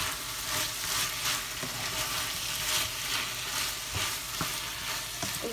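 Steak pieces and vegetables sautéing in a pan, a continuous close sizzling hiss with occasional scrapes and stirring knocks, no talking.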